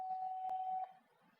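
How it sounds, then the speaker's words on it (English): ARTISTE D1 wireless TV headphones give a single steady beep, close and clear, lasting under a second while pairing with their transmitter, followed by quiet. "You will hear a beep from the headphone"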